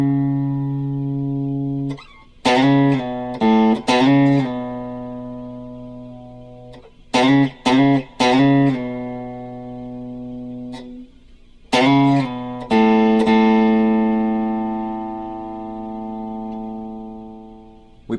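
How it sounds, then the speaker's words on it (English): An electric guitar plays a riff, single notes and short bursts with pauses, then a long ringing note at the end, clear and alone without talk. "We'll start by playing a riff that sounds like this."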